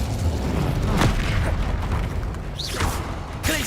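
A fiery spell blast booms in a fantasy video game, a heavy rumbling burst with crackling whooshes and a few sharp swishing accents following over several seconds.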